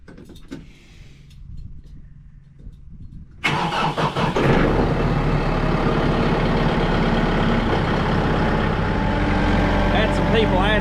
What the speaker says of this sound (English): I already had this tractor fired up earlier today.